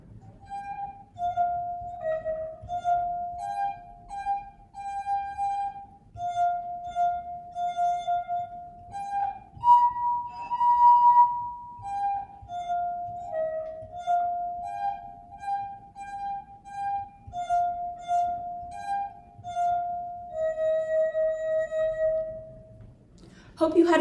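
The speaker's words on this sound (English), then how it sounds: "Hope you had fun making a water glass xylophone with me." Drinking glasses filled with different amounts of water ring out a simple melody as a homemade xylophone, clear sustained tones struck one after another in a steady tune, up close with no talking.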